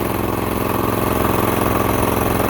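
Farm tractor engine running in a rice field, a steady mid-pitched mechanical drone with regular chugging pulses, continuous and moderately distant with no talk.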